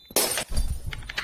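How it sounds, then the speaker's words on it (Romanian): A drinking glass smashes with a sharp crash and scattering shards, followed by a rumbling thump and a few small tinkling pieces. "spar paharul ăsta"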